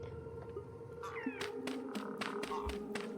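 A cat meows in the Vintage Story survival game, a few short rising calls over steady ambient game background and scattered clicks, no talking.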